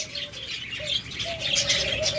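A pair of caged pet birds, lovebirds or cockatiels, chirp and tweet in short repeated calls while hopping out for food, close and moderately loud over light background noise, no voices.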